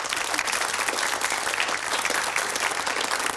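Dense, continuous studio audience applause on a Dutch television game show, loud and even throughout with no break in the clapping.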